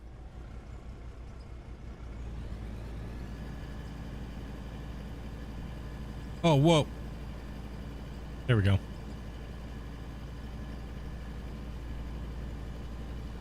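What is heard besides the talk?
truck engine driving in the video game Out of Ore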